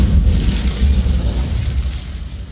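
Incendio fire spell cast in the Hogwarts Legacy video game, a steady roaring burst of flame with a booming, rumbling low end that holds loud for about two seconds before easing slightly.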